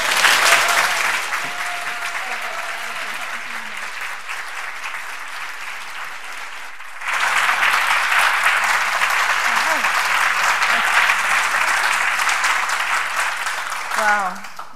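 A lecture hall audience claps steadily to welcome a professor before her professorial lecture, with dense, sustained applause that dips briefly midway and then surges again, ending with a voice starting to speak.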